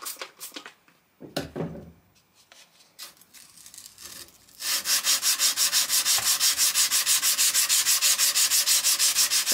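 A 5160 steel knife blade is hand sanded with steady forward-and-back strokes on the first grit, giving a loud rhythmic rasping scrub after a few scattered handling noises and shorter rubs.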